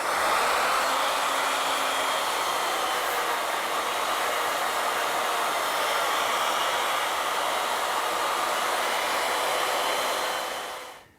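A router mills a wooden blank in an ornamental milling setup, a loud continuous broadband whine that holds steady for about ten seconds, then cuts off as the motor stops.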